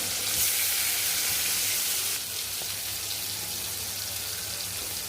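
Steady, close sizzling of meat frying in a hot pan, a bit louder for the first two seconds and then settling into a softer, continuous hiss.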